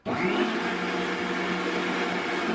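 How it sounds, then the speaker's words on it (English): An electric meat grinder grinds beef for kitfo, starting abruptly and holding a loud, steady motor whine close by, with no one speaking. "I'm using the big little thing on my meat grinder, and let's go."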